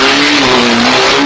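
A race car at the 1970 Sebring 12 Hours, a loud, steady engine drone holding one pitch with a slight waver, close and continuous over roaring broadband noise.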